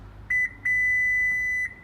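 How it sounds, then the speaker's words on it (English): The power liftgate on a 2019 Subaru Forester gives a short beep followed by a longer sustained electronic tone, clean and close, confirming the memory height is set. "Once you hear that beep, that means it recognizes your height."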